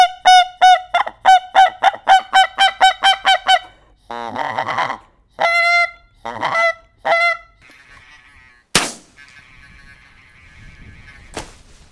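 A hunting whistle imitates goose calls, giving a rapid series of loud nasal honks followed by scattered single and paired honks, then a sharp crack and a thin, steady whistled tone.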